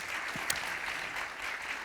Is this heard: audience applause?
yes